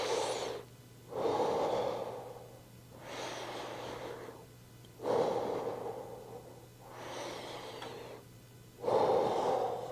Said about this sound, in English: And we're just going to take 3 big deep breaths.